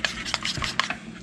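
A spoon scrapes and swishes briskly through a mixture for pork candy in a bowl, a quick run of close, rough stirring strokes.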